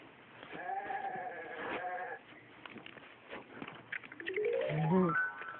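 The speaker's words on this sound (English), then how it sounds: "G is for goat." A toy plays a recorded goat bleat, a wavering nasal baa followed by a second rising bleat, clear and fairly close.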